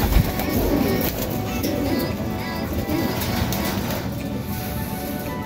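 Racing pigeons coo softly in an enclosed loft, a steady murmur of low calls with light rustling and fluttering around them.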